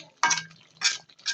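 Beef being stirred and sautéed in a pot for a beef biryani, three distinct scraping, clattering strokes of a utensil against the pot with a faint sizzle between them.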